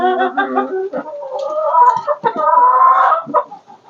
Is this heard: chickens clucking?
yes